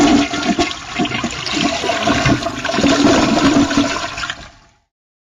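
A toilet flush played as a sound effect, loud and close: a rushing gurgle of water swells, holds, then drains away and cuts to silence at the end.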